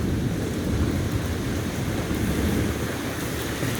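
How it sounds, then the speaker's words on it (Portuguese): Heavy rain with hail pounds down in a dense, unbroken roar, loud and steady throughout with no voices. "Caiu até gelo, ó."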